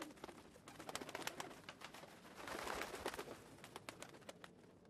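Pigeons or doves coo and flutter in Drakengard 3, a cluster of soft repeated bird calls and wingbeats, quiet and fairly close, with no talk over them.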